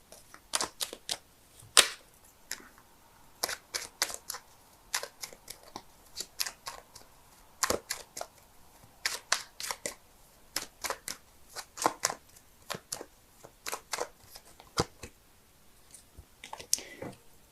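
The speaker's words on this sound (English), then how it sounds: "so give me a sec while I shuffle." Tarot cards are shuffled close up in a quiet room, giving repeated crisp riffling snaps and soft slaps in irregular bursts, with short pauses between them.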